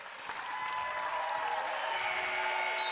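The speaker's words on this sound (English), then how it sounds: "Crowd reacts and appreciates the performance by the Portland Pilots" A crowd applauds steadily and loudly after the Portland Pilots' 81-71 women's basketball victory over Santa Clara, a dense, sustained wash of clapping that builds slightly and holds.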